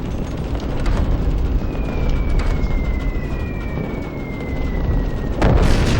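Bombs fall from a Call of Duty 2 bomber over its target: a steady engine drone with a thin descending whistle of falling ordnance, ending in a sudden broad explosion.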